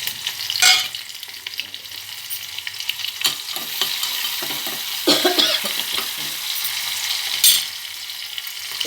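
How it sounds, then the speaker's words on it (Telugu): Onions, chillies, mustard seeds, cumin and urad dal frying in a pan for tomato dal, a steady sizzle broken by sharp stirring clatters and a cough, loud and close, with no talking. "ఉల్లిపాయలు, మిరపకాయలు, ఆవాలు, జీలకర్ర, మినప్పప్పు ఇవి వేస్తాం."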